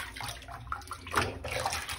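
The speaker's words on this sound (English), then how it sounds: "So then stick that other one down in the water." A bare foot slips into a basin of water during foot care, making soft, close sloshing and trickling splashes that swell briefly midway and then settle.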